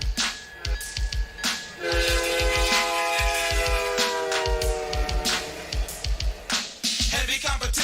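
A train horn sounds as a loud, sustained chord for several seconds, layered over a steady hip hop drum beat with thumping kicks and snares.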